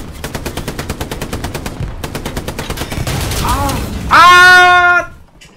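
Rapid machine-gun bursts fire in a steady rattling rhythm in Hell Let Loose tank combat, followed by a louder blast with a ringing whine near the end, as players talk over the gunfire.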